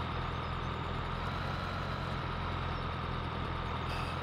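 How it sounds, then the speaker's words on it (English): A tractor engine idles loudly and steadily in the Farming Simulator 17 video game, a dense, constant low rumble with a droning hum that holds without change throughout. "Now this tractor is loud."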